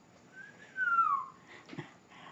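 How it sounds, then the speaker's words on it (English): A single short whistle sliding downward in pitch, clear and close in a quiet room, followed by a faint soft knock. "Cosmo whistled."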